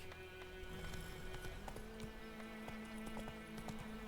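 Roach the horse from The Witcher video game trotting with rhythmic clip-clop hoofbeats, quiet and steady under a bed of game music for about four seconds.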